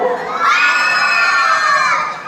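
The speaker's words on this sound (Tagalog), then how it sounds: "Wala po bang hiyawan dyan?" Pageant crowd at the Ms Gay Manato 2023 show cheering and shouting, a sustained high-pitched roar of many voices that swells early and holds loud until it tapers at the end.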